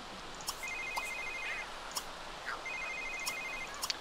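A telephone rings in The Sims 3 life-simulation game, a clean electronic ringtone repeating twice in two-second cycles, with faint sparkly chimes in the background.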